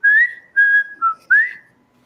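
A person whistles a short tune alone, four clear sustained notes with small pitch slides, close and fairly loud, then quiet.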